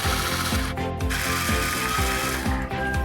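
A screw being unscrewed from a Lenovo ThinkCentre M91p small-form-factor desktop case, giving a close, steady run of rapid rhythmic ratchet clicks that continues throughout, with no talking.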